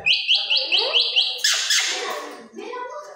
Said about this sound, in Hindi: ये हमारी मैना भी नज़दीक आ गई है